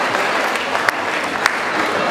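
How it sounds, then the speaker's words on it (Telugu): An audience at a Ugadi celebration claps together in a sustained patter of applause, moderately loud and steady, with a couple of sharper individual claps standing out. "సో మీరు గట్టిగా చప్పట్లు కొడితే మీరు రెడీగా ఉన్నట్టు వాళ్ళకు కూడా తెలిసిపోతుంది"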